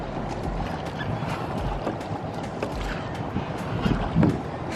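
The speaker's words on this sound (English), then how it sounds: "Sure are a lot of boats" Steady low rumble of boats moving on the Dalyan River, with wind buffeting the microphone and faint scattered voices in the background.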